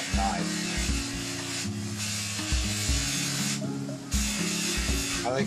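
Someone talks over an electric buffer working a light abrasive, wax-based compound into a surface, its steady, raspy whir swelling in a few louder passes.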